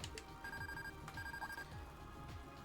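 An in-game telephone rings in Trails of Cold Steel 2, a repeating electronic trill in short bursts over steady background music, with no speech.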